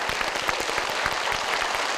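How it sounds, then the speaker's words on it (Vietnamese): Studio audience applause on a Vietnamese television game show, a dense steady wash of many hands clapping at even loudness throughout, with no voices over it. "Một tràng vỗ tay đã."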